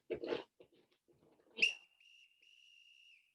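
A single long, steady whistle blast sounds clearly after a short thump, following a few seconds of brief breathy voice and movement noise during an exercise workout.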